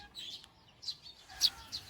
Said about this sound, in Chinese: 这季节附近全是小麻雀的叫声，